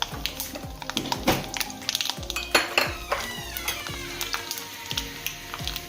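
Mustard seeds, urad dal and fenugreek fry in oil in a kadai while a metal spoon scrapes and taps against the pan in quick, irregular clinks over a light sizzle.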